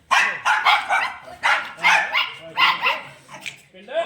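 Dogs offered for sale in Bathinda, Punjab bark in a steady series of close, loud barks about every half second, while people talk nearby.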